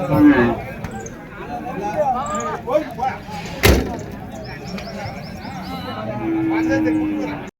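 A pair of bulls at the Uthangarai cattle market, with a lowing moo among busy market noise, a sharp slam near the middle and a long low call toward the end, while people talk nearby.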